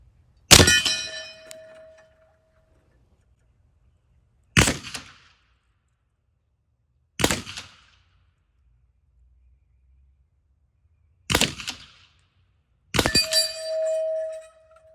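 Five shots from a semi-automatic .50 caliber airgun ring out, each a sharp crack spaced seconds apart. A metallic ringing follows the first and last, likely the red steel gong 50 meters away being hit.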